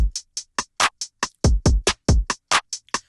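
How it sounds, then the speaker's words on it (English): A programmed drum beat in FL Studio with swing off plays in a rigid, evenly spaced pattern of kicks, snares and hi-hats, dry and punchy with no swing. "then that means the swing is off and then the drums will sound like this"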